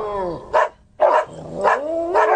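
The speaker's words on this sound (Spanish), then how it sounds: "¡Otra vez esos malditos perros!" Dogs bark in a quick run of four loud, close barks with short pauses between them, with no voices over them.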